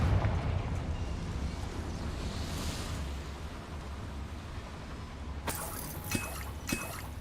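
A Confringo fire spell goes off in Hogwarts Legacy as a single loud, roaring blast that crackles and trails off, with a few sharp impacts following. No one speaks over it.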